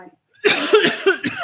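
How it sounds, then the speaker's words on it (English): A person coughs during a town planning board meeting, several harsh bursts in quick succession, close and fairly loud. "I might have to step out if I'm coughing here."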